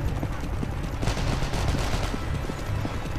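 Gunfire crackles through a dense, busy firefight in Call of Juarez: The Cartel, with rapid repeated shots layered over loud game noise and a possible horse clatter.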